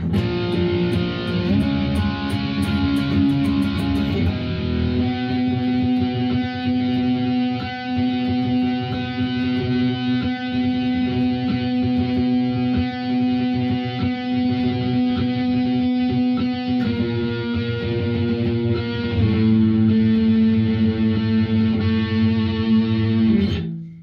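An electric guitar played through distortion and chorus effects works through a section of a song, with power chords sustained under steady strummed rhythm. The tone is dense and loud, shifting chords every few seconds, with no talk.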